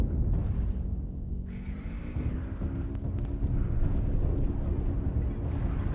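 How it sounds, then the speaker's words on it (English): Artillery strike explosions in a video game roll together into a dense, continuous low rumble with heavy booming swells and a few brief sharper cracks, loud and sustained throughout. "Artillery strike online."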